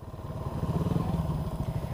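Yamaha Sniper and Rusi Flash 150 motorcycle engines, the Flash carrying a passenger, run in a steady, loud, rapid throbbing close by with no voices.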